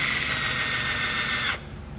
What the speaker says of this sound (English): Shove it into a drill.